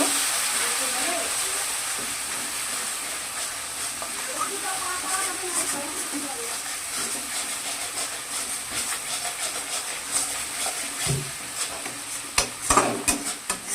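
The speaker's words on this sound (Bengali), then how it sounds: "কাজু বাদাম পেস্ট। ভালো করে মিশিয়ে নেব।" Cashew nut paste being stirred into a rohu fish kalia in a pan: soft, close scraping and bubbling with a faint hiss, growing into sharper knocks of the spoon near the end.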